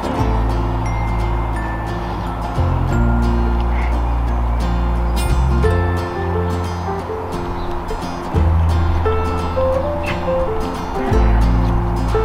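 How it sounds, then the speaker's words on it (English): Plump fowl at an allotment honk and call steadily over a dense, continuous layer of noisy clucking and squawking, with no talk over them. "Let's feed those fat birds as well."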